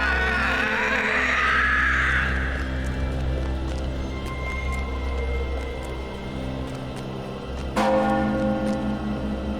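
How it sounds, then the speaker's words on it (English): Front door bell ringing in Lord of the Rings Online, a loud sustained bell tone with hum and ringing overtones, struck again near the end with a fresh clang over continuing game ambience. "I've gone and rung the front door bell."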